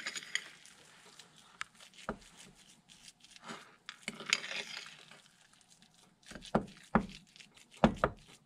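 Cooked egg yolks being stirred in a bowl, heard as quiet, intermittent scraping and light clinks of a utensil against the bowl, bunching into louder bursts toward the end, with pauses of near silence between.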